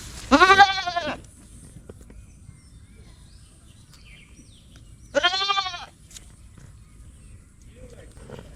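Two loud goat bleats on a goat farm, each about a second long with a wavering, quavering tone, separated by a pause of quiet outdoor background.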